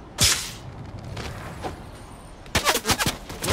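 Gunfire in the video game Fortnite: a single sharp shot near the start, then a quick burst of several loud, close shots near the end, with a quieter stretch of game ambience between them.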